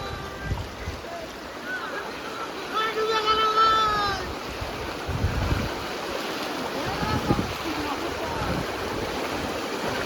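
Floodwater rushes over a river crossing on the Shilaboti at Simlapal, a steady broad roar mixed with gusty wind noise on the microphone, with brief chirping tones and occasional voices in the background.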